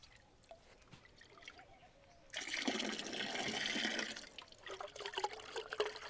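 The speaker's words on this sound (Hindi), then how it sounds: "ये गुड़ भी अभी मैं इसमें मिक्स कर देती हूँ।" Jaggery is mixed into a liquid cow dung preparation for organic farming. A soft lead-in gives way to about two seconds of sloshing, pouring liquid, followed by quieter dribbles and splashes, all fairly faint.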